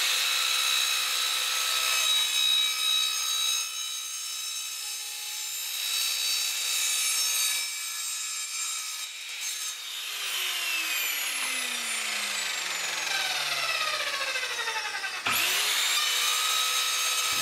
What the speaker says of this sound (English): we're going to use UPVC guttering that we chop up into sections to make our Savonius type wind wall